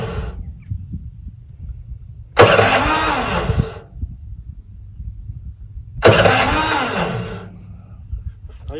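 A garden shredder engine being cranked and trying to start, two loud pull-start bursts a few seconds apart that each sputter briefly then fade, close by, with quiet background noise between attempts.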